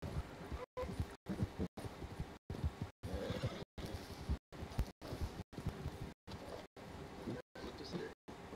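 A horse in a video game neighs and whinnies with some clip-clop of hooves, moderately loud and broken by short silent gaps, while a player talks over it.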